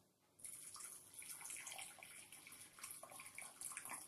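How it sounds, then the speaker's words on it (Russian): Boiling water pours from a kettle into a small bowl, a steady splashing gush that starts abruptly and carries on, close and quiet, with no voices. "наливаем горячей воды, кипятка,"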